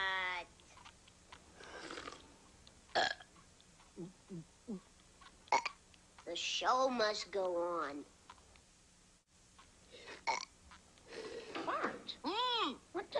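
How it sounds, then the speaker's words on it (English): Cartoon burping contest from The Simpsons, with several short burps scattered among children's and adult voices talking and exclaiming, belches rising between lines of dialogue at close range. "We're having a burp contest, Mom."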